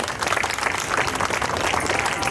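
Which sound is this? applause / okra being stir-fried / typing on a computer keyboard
applause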